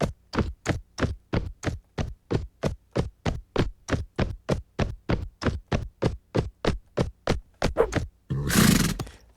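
A horse canters in the Mount and Blade video game, its hoofbeats thudding in an even, quick rhythm of about two dozen strikes, close and distinct, ending in a short burst of noise.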